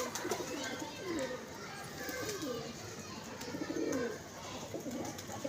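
Pigeons at a pigeon keeper's club coo softly and repeatedly, a faint, wavering murmur under people talking nearby, with children's voices in the background.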